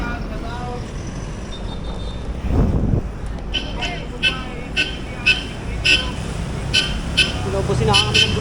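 Short vehicle horn toots ring out repeatedly during a large group motorcycle ride on the Taal loop, several brief honks in a row over road and engine noise, with people talking nearby.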